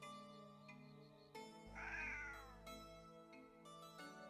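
A cat gives a single drawn-out meow, clear and close, over a soft sustained musical background.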